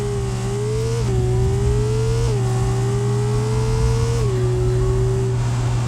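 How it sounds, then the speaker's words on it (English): A flat-six sports car engine in the video game BeamNG.drive revs at a high, steady pitch, stepping down briefly at a few gear shifts before climbing again, loud and continuous with no talking. "It has a flat 6 high-strain engine that sounds heavenly."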